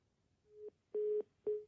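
A telephone line gives short, steady beeps after a call is cut off during a phone interview. Three evenly spaced tones with brief gaps, clear and alone.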